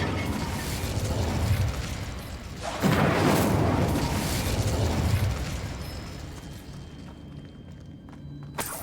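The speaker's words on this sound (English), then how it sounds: "Incendio!" A fire spell cast in Hogwarts Legacy near a witch's sarcophagus erupts in a loud whooshing burst of flame that swells suddenly, then roars and slowly fades over several seconds.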